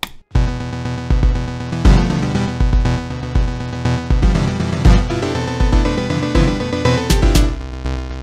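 A synth instrument from a music program plays a loud, dense electronic passage with layered sustained tones and a rhythmic low pulse, filling the whole stretch with no talking.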